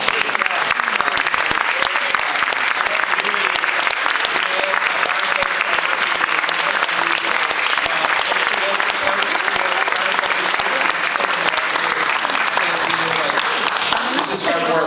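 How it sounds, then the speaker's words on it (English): Sustained applause from teachers, parents and district staff at a public school meeting fills the room evenly and loudly without a break. "just get a round of applause"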